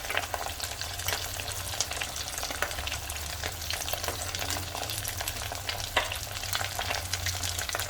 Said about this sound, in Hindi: इसी तरह से पूरे हम अपने जो भी अरबी हैं पूरे इसी तरह से हमें डबल फ्राई कर लेने हैं